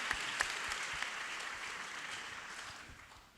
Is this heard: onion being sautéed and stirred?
no